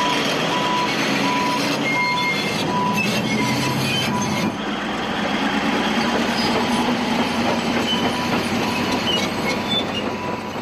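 A 120-tonne Caterpillar D11R bulldozer rumbles heavily and continuously while its reversing alarm beeps several times early on, then the deep engine drone carries on alone.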